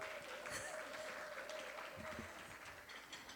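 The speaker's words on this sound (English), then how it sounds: "You guys can clap it up." Audience clapping at an educators forum, a steady wash of applause from a seated crowd, moderately loud with a faint tonal hum underneath.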